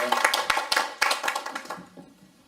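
Audience applause at a lecture forum, a burst of close, crisp hand claps that thins out and fades away by the end.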